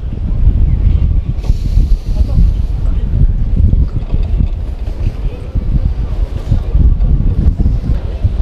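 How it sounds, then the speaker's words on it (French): Strong wind blows across a beach during a jog, a loud, continuous roar that buffets the microphone, with surf faintly mixed in underneath. "Il y a beaucoup de vent."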